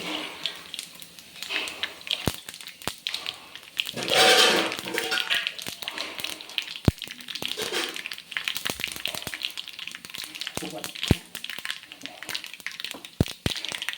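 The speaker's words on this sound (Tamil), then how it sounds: "இதில் தாளித்து கொட்டிக்கலாம்." Hot oil tempering sizzles loudly in a sudden burst as it is poured into horse gram rasam, then fades to a gentle crackle among scattered taps and clinks.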